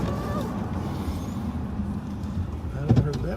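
Road traffic passing a car on patrol, a steady low rumble of engines and tires with a brief louder thump near the end, under people talking.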